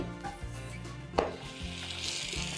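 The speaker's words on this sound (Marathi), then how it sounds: "आता आपण चपाती भाजून घेऊया" A chapati sizzles on a hot griddle with ghee, a soft steady crackle broken by a brief scrape of a utensil.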